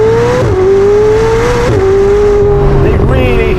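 A McLaren 765LT fitted with a Novitec exhaust revs hard in rising, falling sweeps, loud and close, with brief shifts between pulls and a voice speaking briefly over it.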